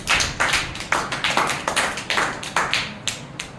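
A group of children claps for a boy named Aditya during a classroom word-puzzle game, a quick run of sharp, fairly loud hand claps in an uneven rhythm with no talking.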